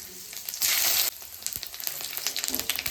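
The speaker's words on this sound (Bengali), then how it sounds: "এবার দেবো ফোড়নে, দেবো জিরে, তেজপাতা আর শুকনো লঙ্কা" Cumin, bay leaf and dried chilli sizzle in hot oil for a magur fish curry, a loud bright crackling burst up close that settles into steady frying with small pops and a few stirring clatters.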